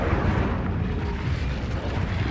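An Incendio fire spell cast in a Hogwarts video game erupts as a loud, sustained whooshing roar of flame, dense and close throughout with no speech.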